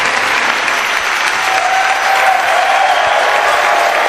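Steady, dense clapping from a large audience fills an annual-day award ceremony hall at a school and PU college in Tumkur, holding at an even loud level throughout with a faint tonal whine beneath it.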